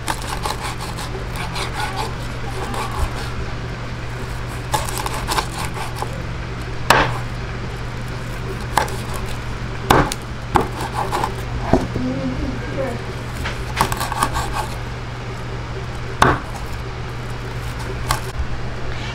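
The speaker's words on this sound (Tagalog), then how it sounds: "Okay, ngayon po, chop na po tayo." A knife chops crispy pork skin for sisig on a board, giving sharp, irregular cutting knocks over a steady background hum, with a voice talking intermittently.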